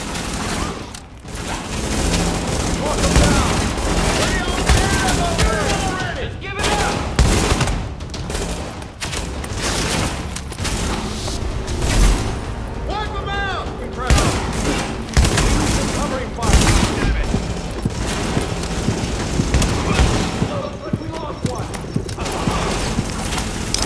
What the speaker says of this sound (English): They must have a light machine gun.